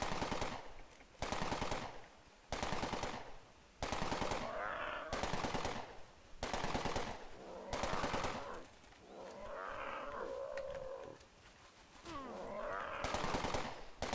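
Automatic weapon in the video game Entropia Universe firing repeatedly on auto-use, in sustained loud bursts separated by short pauses, with some roaring creature sounds mixed in between volleys.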